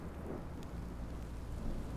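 Rain and thunder in the video game Minecraft: Story Mode: a steady wash of rainfall over a deep rolling rumble of thunder, continuous and alone with no voices.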